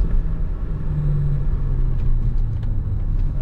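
A Lexus with a manual stick shift misfires while driving in second gear, its engine giving a steady, uneven low rumble close up, with faint clicks and no talking.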